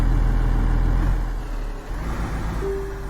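Truck engine in the Alaskan Road Truckers video game drones steadily with a low rumble and a thin whine throughout, loud and continuous, a brief rising tone near the end.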